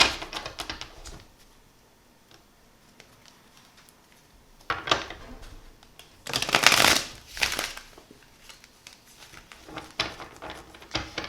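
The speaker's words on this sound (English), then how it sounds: "so we're gonna pull 3 cards of tarot to dig into your love life" Tarot cards are shuffled in several brisk riffling bursts with quiet gaps between, recorded close up and without talk.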